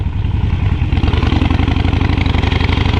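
A motorcycle engine idles close by with a steady low, throbbing pulse and light mechanical clatter, running alone without any talk.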